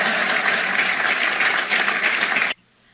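Audience applause at a political speech: dense, steady clapping from a crowd that holds at a loud level for about two and a half seconds, then cuts off abruptly into near silence.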